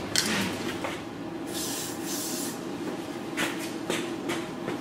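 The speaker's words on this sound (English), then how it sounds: "So I just sprayed it around your actual hairline." Several short spray bursts from a can are applied around the hairline during a lace frontal wig install with the bald cap method, each a close hiss with brief rubbing sounds between them.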